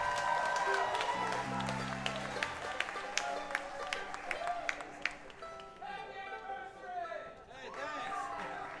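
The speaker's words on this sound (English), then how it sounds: "I want everybody to give a warm round of applause." Audience applause and some cheering at a live concert, a steady crowd clapping that thins toward the end, with music and voices mixed in.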